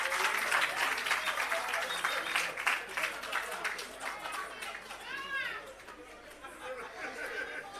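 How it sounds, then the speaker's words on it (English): Steady applause from a crowd at an irrigation system commissioning and agro park launch, mixed with lively chatter, continuing throughout and tapering slightly toward the end. "a round of applause"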